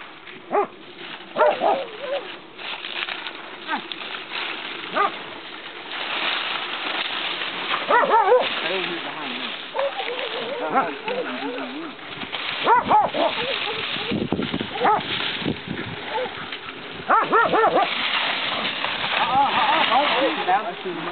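A hunting dog barks and whimpers repeatedly during a hunt, loud and close at times, while people talk over it outdoors.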